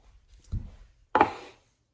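A knife chops carrots into a tiny dice on a board, two distinct close strikes with the second sharper and crisper, heard alone.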